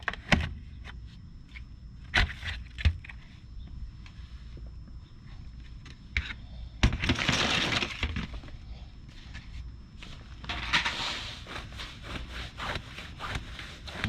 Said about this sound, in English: We want to start by removing the hubcap by using a flathead screwdriver and just prying it off.